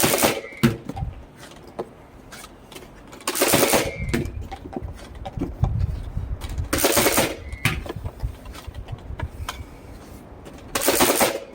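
A Nerf Mega XL Double Crusher blaster fires large darts in a series of sharp, loud bursts spaced a few seconds apart, each a quick mechanical thump and whoosh, with handling noise in between.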